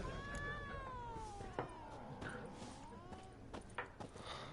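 A cat in the video game The Witcher 3 gives drawn-out, wavering meows up close, followed by softer scuffs and faint background ambience.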